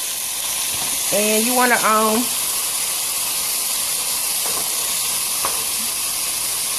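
Marinated shrimp sizzling in a hot pan for a shrimp and broccoli stir fry, a steady close frying hiss that runs under someone speaking briefly.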